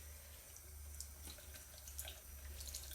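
A faucet runs steadily as a sponge is wetted at a sink to rinse off a face mask, with a low continuous water flow and a few soft splashes and drips, no speech.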